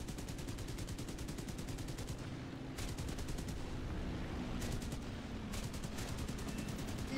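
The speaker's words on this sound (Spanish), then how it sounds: "se le sobrecalientan demasiado rápido las ametralladoras" Aircraft machine guns fire in War Thunder in long rapid bursts of steady rattling rounds, broken by short pauses, over the continuous hum of the plane's engine.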